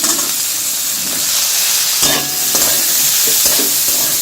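Beans and capsicum fry in a hot pan while being stirred for a navratan dish, giving a loud, continuous close sizzle and hiss with scraping stirs, no talk.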